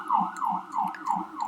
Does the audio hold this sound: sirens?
yes